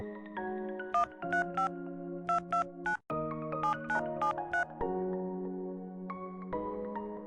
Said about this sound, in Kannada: ಅಜ್ಜಿಯ ಫೋನ್ ನಂಬರ್ ಬಳಸಿ ಅವರಿಗೆ ಕರೆ ಮಾಡಿದೆವು